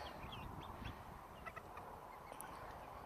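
Poultry, chickens penned outdoors inside electric netting among trees, give faint, scattered clucks and squawks, a few short calls over a low steady background hiss.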